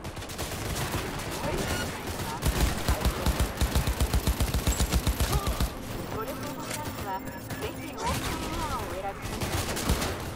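Rapid bursts of gunfire from a firefight in Cyberpunk 2077, with a dense run of shots in the middle and scattered fire afterward, loud over game ambience while someone talks.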